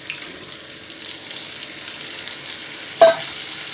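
Mutton liver sizzling and frying in masala in a pan, a steady soft crackle with a sharper burst of sizzle or a stir partway through, no talking.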